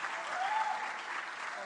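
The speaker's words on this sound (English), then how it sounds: "A round of applause, please." An audience claps steadily and evenly through a brief moment at a national juniors quiz challenge, the applause filling the room at moderate volume.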